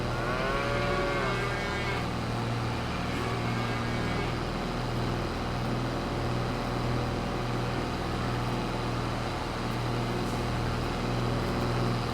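Cattle moo repeatedly in a farming video game on Buckland Farm, several drawn-out lowing calls near the start over a constant droning engine-like background hum, with no talking.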